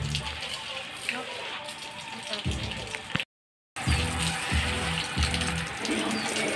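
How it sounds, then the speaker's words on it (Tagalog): Fish and small crabs from a bukatot fish trap are tipped into a tub, giving watery gushing splashes and scraping thumps with a short silent break midway, while a voice talks over it. "ibubuhos na natin sa banyera para mapili natin yung isda saka talangka"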